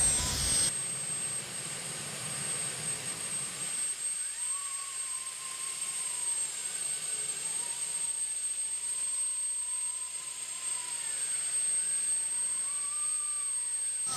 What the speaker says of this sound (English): We've got a turbine that is getting started up out there.